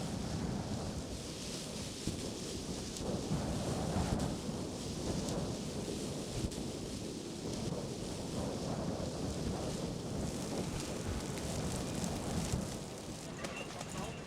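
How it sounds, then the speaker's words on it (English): A wind and rain storm on Heard Island roars continuously with heavy gusting wind buffeting the microphone and steady rain beneath, loud and unbroken throughout. "the killer wind, which angrily pounds the shelters night and day"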